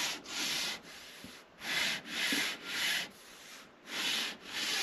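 Thin wood veneers on a handmade parlor guitar are sanded by hand in steady back-and-forth strokes, about eight even rasping passes with short gaps between them. The sound is close and there is no talk.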